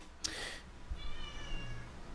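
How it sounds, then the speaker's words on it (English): A domestic cat gives a single clear meow indoors, followed by a faint, drawn-out tonal call in a quiet room with no talking. "That was my cat."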